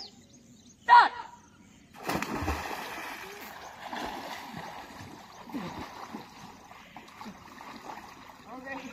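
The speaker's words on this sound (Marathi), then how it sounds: "मी मारलो उडी, पोहलो." A person jumps into a village swimming spot with a single sharp splash early on, followed by softer continuous water sloshing and paddling as they swim, with voices talking faintly over the water.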